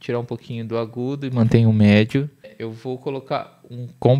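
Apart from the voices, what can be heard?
No everyday noises stand out.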